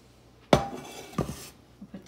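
Butter and other ingredients for parmesan corn dropped into a pan give a sharp metallic clunk, then a second lighter knock and a few faint clatters, close and otherwise quiet.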